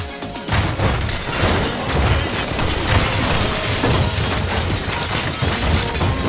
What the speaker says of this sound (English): Look, even the glass is getting blown away.